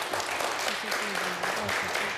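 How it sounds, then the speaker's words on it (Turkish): A studio audience on a Turkish word-game show applauds, a brief wash of dense clapping with voices talking over it. "E, e o zaman bir alkış daha."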